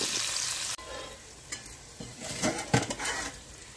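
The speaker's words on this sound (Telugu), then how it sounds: "అదే ఆయిల్లో ఉల్లిపాయ ముక్కలు వేపేసుకున్నామండి." Chopped onions and green chillies sizzle in hot oil left over from frying eggs, with steady frying hiss and a few scraping stirs and pan clinks toward the end.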